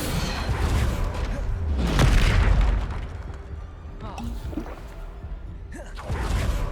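In Hogwarts Legacy, a Bombarda spell explodes as a heavy booming blast, followed by lighter bursts and crackles of spell combat.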